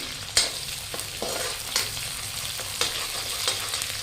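Onions fry with cumin and green chili in a pan, a continuous close sizzle with a few sharp scraping stirs at irregular intervals and no talking.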